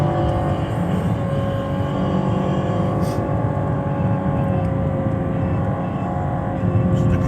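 A 2019 Chevrolet Camaro convertible with a V6 engine drives a winding mountain pass, its engine droning steadily and loud throughout, rising under load with a brief break near the middle like a gearchange.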